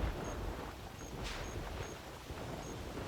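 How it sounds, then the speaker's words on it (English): Thunderstorm in the hunting game theHunter Classic: steady, moderate rain hiss with a low rumbling undertone and faint intermittent tones, continuous throughout. "There goes the thunderstorm."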